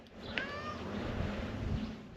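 A cat meows once, fairly close, with a rising-falling cry standing out over a steady background hum and low rumble in a workshop.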